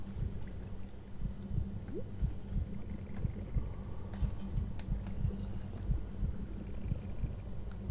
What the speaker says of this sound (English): In case you don't hear it, it kind of sounds like a heartbeat.